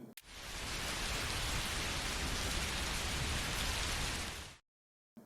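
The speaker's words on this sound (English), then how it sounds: "Piovoso, rainy." Steady rain pouring down as a dense, even hiss, loud and constant, then cutting off abruptly into silence.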